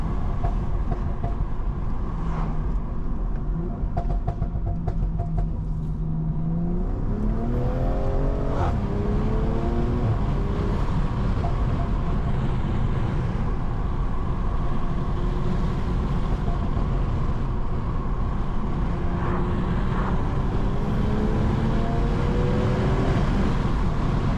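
A BMW M340i on new stage 2 suspension and wheels cruises from inside the cabin, a steady road and engine drone with rising and falling gear-change tones, continuous and moderately loud with no talking.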